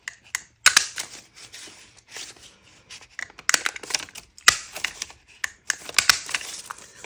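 Paper circles punched and cut for a soft journal cover: a busy run of sharp crisp snips and clacks, close and fairly loud, coming in irregular bursts with brief pauses.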